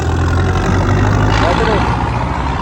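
A loud, steady 110 HP tractor engine idles with a low, even rumble throughout, close by and unchanging.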